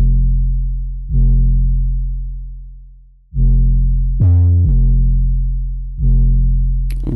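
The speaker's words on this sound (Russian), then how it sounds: "Бас самый обычный, 808 сэмпл." Deep, booming 808 bass sample notes through saturation and tape effects, several long decaying hits with distortion, one brief higher-pitched blip in between; loud and alone, no voices.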